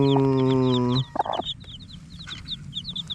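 A loud, drawn-out hen call breaks off into soft, scattered clucks, with small chirping birds twittering in the background.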